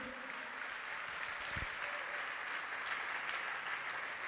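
A church congregation claps together in sustained, dense applause that holds steady for several seconds, fairly distant and even, with no break.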